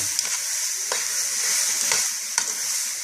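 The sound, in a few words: celery and onions sizzling in a pan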